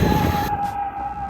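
A JLB Cheetah RC truck runs at full throttle, its electric motor letting out a steady, sustained high whine that holds loud and continuous across the short burst, with no talking.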